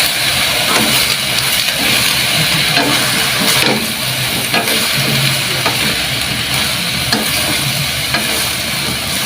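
Smoked fish, tinapa, frying in a pan as a dish of pakbet is cooked, giving a steady loud sizzle and crackle with faint stirring, no talking.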